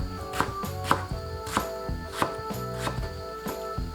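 A knife chops radish steadily on a cutting board, sharp rhythmic strikes repeating about every half second, close and clear.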